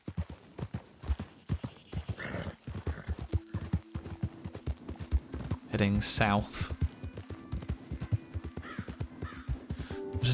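Steady clip-clop of horse hooves in a quick trot in Red Dead Redemption 2, with a loud neigh partway through; a person speaks briefly over the hoofbeats.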